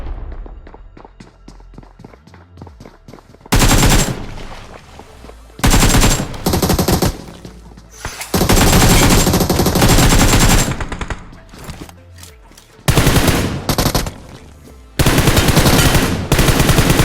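Bursts of automatic gunfire from a close-range one-versus-two fight in BGMI (PUBG Mobile), loud volleys starting and stopping repeatedly with quieter footstep-like movement in between.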